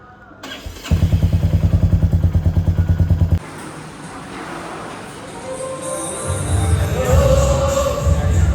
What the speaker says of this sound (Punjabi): ਹੁਣ ਆਪਾਂ ਬਾਈਕ ਤੇ ਬੈਠ ਗਏ ਆ ਤੇ ਬਾਈਕ ਲੱਗਿਆ ਕਰਨ ਸਟਾਰਟ